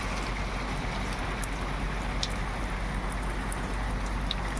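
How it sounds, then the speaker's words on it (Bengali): Heavy rain falling outside, a dense, even hiss held at a steady level throughout, with a few faint higher ticks over the wash and no talking. "দেখতেই পাচ্ছ কিন্তু তোমরা বাইরে কিরকম বৃষ্টিটা হচ্ছে"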